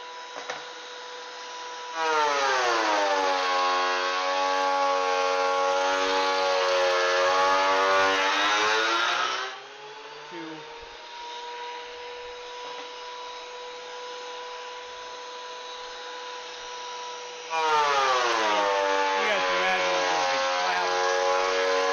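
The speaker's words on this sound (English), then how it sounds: "More surface area that you're planing at one point in time, the smaller of a pass you can make" Loud power planer taking 1/16-inch passes on a wood board for controller stands, a steady high whine with a rising pitch at the start of each pass, dropping to a lower idle hum between passes, then starting again.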